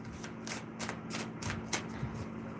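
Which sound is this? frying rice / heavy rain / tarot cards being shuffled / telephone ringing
tarot cards being shuffled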